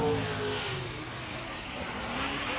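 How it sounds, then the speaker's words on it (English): Turbo V8 Subaru BRZ drift car driven by Daijiro Yoshihara on a racetrack, a fairly steady, muted engine drone with slight swells of revving, heard at moderate distance with no talk. "that's a turbo V8, but it sounds so quiet"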